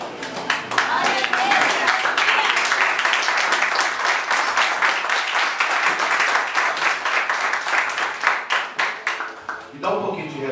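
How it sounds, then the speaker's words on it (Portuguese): A church congregation applauds steadily and loudly for about ten seconds, dense clapping filling the room before tapering off near the end, with voices mixed in. "Toma o seu assento, aplauda Jesus."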